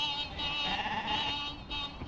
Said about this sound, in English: Sheep all over the road,